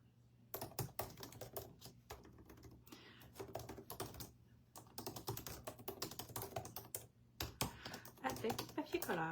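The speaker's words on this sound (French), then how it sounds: "ça fait moins plate que juste me regarder taper" Close, rapid typing on a computer keyboard, with clattering key bursts broken by short pauses, while someone speaks quietly underneath.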